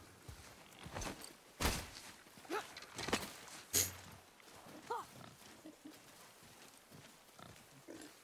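Wild boar in the God of War video game gives a few scattered grunts and snorts amid rustling and footsteps, fairly faint, with short gaps between calls.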